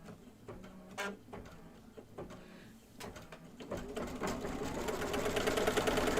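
An embroidery machine stitching a design starts with scattered clicks and short whirs, then settles into a rapid, steady mechanical chatter of the needle that grows louder and more continuous toward the end.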